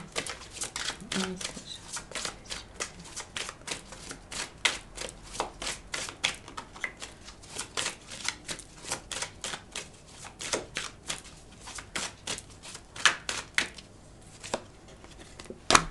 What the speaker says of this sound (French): Donc une carte s'est retournée mais une autre a glissé